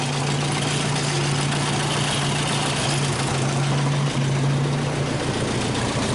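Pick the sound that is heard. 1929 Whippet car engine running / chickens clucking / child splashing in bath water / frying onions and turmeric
1929 Whippet car engine running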